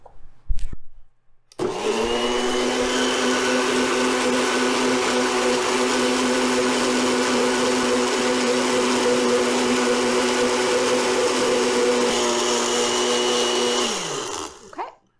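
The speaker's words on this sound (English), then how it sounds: "I'm going to start the blender on a slightly lower speed" A blender churns milk and eggs at low speed, a steady loud whirring motor hum that starts abruptly after a short pause and runs evenly for about thirteen seconds before winding down.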